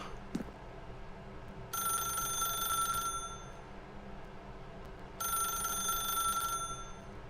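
Telephone ringing in a video game, two long bursts of a bright electronic ring separated by a pause, fairly faint over a quiet background hum, with a small click near the start.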